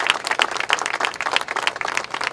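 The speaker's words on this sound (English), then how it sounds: "give them a round of applause to Jaime and to Tony and the Puerto Rican Monument Committee" Audience applause for a Puerto Rican veterans' monument committee, a lively burst of many hands clapping at close range, fast and uneven, filling the whole moment without speech.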